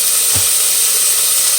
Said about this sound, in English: There's lots of grease popping out of that skillet